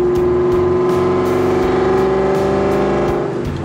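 Supercharged V8 of a 2003 Ford Mustang Cobra running loud and close, a deep rhythmic burble with a high supercharger whine layered on top, steady before easing off at the end.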